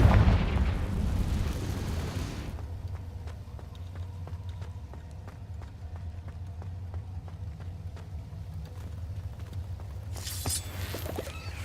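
A Confringo fire spell in Hogwarts Legacy bursts at the start with a loud, rumbling explosion that fades after about two seconds into low background ambience, followed by a fainter whooshing burst near the end.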